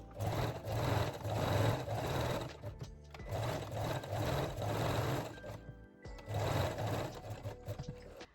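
A sewing machine straight-stitches lace onto a bralette, running in three close bursts of steady rapid whirring and clatter separated by short pauses, with no talk.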